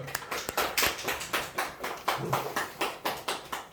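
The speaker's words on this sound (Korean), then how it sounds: "하늘쌤에게 마지막으로 박수 한번 다시 한번 드려볼까?" Students giving a speaker a round of applause in a classroom, a small group clapping in a fairly quick, uneven rhythm, close and moderately quiet.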